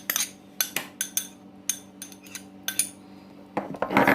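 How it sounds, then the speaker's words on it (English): Utensil scraping and clinking against a bowl while garlic is mixed into margarine, a series of short separate knocks and scrapes close by, with a louder cluster at the end. "So what we're going to do is mix our garlic with the butter"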